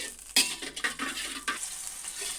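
Tomato paste is stir-fried with spices in oil for a pholi fish tel jhal curry: a soft sizzle broken by sharp spatula scrapes and metallic clinks against the pan, close and unvoiced.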